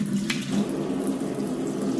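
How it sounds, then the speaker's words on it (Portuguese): Water runs steadily from a kitchen faucet into a deep sink set in a granite countertop, a continuous close hiss with a faint low hum underneath and a brief splash near the start. "Vem com essa torneira aqui"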